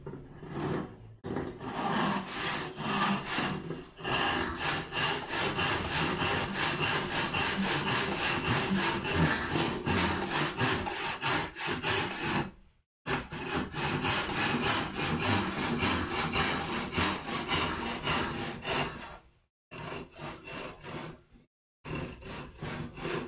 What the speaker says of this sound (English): so I planed it down.